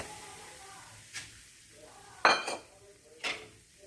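Wheat flour roasts in cow ghee in a wok over a low flame for atta ladoo, and a spoon scrapes it in three separate sharp strokes against the pan over a quiet, faint background.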